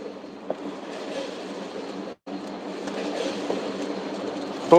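A Moscow metro train runs with a steady rolling rumble and repeated clickety-clack from the wheels. The sound comes from inside the carriage, with one brief dropout and a sharper knock at the end.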